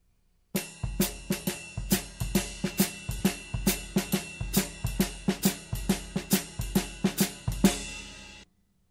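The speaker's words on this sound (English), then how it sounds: "I'm going to make the bass drum part of the variable by having it play in those missing eighth notes" Drum kit playing a steady jazz-rock coordination pattern, with the bass drum filling the missing eighth notes between cymbal or hi-hat strokes: a dense, even stream of sharp hits, loud and close, with no voices.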